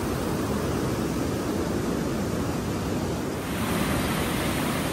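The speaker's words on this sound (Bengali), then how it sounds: "শুধু নদীর স্রোতের মিষ্টি আওয়াজ" A river current rushes steadily near a hanging bridge on a mountain route, a dense, unbroken broadband roar with no voices.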